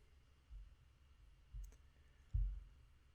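A few soft computer mouse clicks, faint and spaced apart, the last slightly louder, in an otherwise quiet room.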